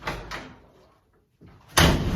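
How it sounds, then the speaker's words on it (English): A Chevy C10 pickup door fitted with new reproduction seals is slammed shut. A couple of dull thumps come first, then a short quiet gap, then a loud, close slam, with no talk. "slamming a door like that on one of my projects"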